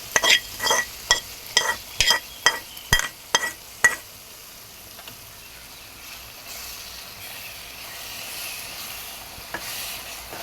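A spoon scrapes and clinks against a pan as carrot halwa is stirred with fried nuts, first in a series of sharp knocks and then as a softer continuous sizzle and shuffle, close by with no talking.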